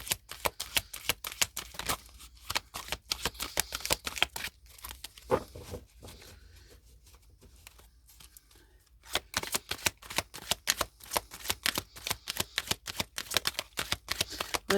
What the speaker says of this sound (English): so let's get the cards down first.